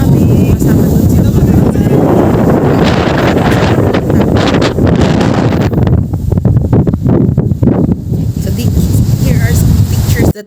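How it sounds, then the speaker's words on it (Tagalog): Strong coastal wind at San Vicente, Palawan, roaring and buffeting the microphone loudly throughout, with a voice talking faintly underneath. "Sobrang lakas ng hangin dito"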